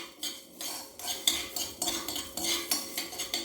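Coriander, mustard and poppy seeds dry roast in a pan, with a rhythmic run of metallic scrapes and clinks as a spoon stirs and tosses them, close up and steady, no voices.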